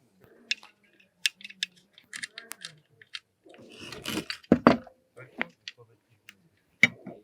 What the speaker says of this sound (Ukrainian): встановлюємо накладку газової трубочки. Закручуємо гвинти.